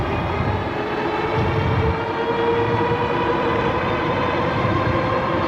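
A HOVSCO HovCart electric cart accelerates at full throttle, giving a loud, continuous rumble and rushing wind noise with a steady motor drone and no speech.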